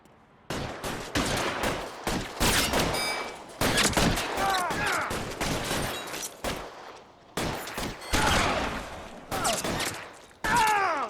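Shootout gunfire in L.A. Noire, loud bursts and rapid volleys of shots coming in several clusters with short gaps, some distant echoing cracks between them.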